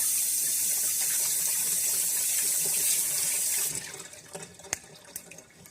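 Shampoo bar rinsed under a running tap, a steady hiss of water for several seconds that cuts off, followed by a few faint drips and small clinks.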